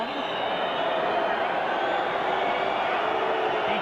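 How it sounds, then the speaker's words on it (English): Rugby league crowd at the 1995 Huddersfield v Keighley Cougars Grand Final, Keighley Cougars supporters roaring to put off a kicker: a steady, dense wall of crowd noise sustained throughout without a break. "Keighley Cougars crowd trying to put him off"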